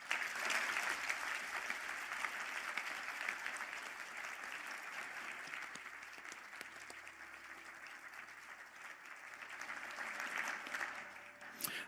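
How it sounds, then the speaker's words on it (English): A large hall audience applauds graduates standing at a university conferring ceremony in Galway, sustained even clapping that carries on steadily for about twelve seconds, fairly distant and diffuse. "please stand for a round of applause"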